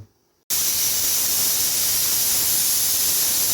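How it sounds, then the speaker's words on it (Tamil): A pressure cooker whistle blasts steam while usili upma cooks, a loud continuous hiss that bursts on abruptly after a brief quiet and holds steady, with no talk. "இப்போ விசில் வந்துடுத்து, அடுப்பை அணைக்கிறேன் நான்."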